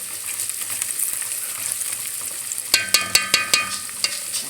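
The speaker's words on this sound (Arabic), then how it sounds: "وقلبنا كده البصله مع بعض كده" Onions frying in oil and ghee are stirred with a utensil, a steady close sizzle carrying a run of sharp spoon knocks against the pan in the second half.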